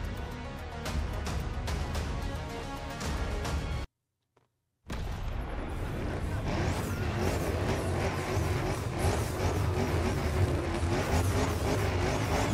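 Audi RS Q8 engine in the racing game The Crew Motorfest, a loud continuous drone with revving swells, cut by a brief silent gap partway through, then roaring steadily again.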